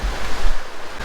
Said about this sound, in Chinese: 再看今天这妖风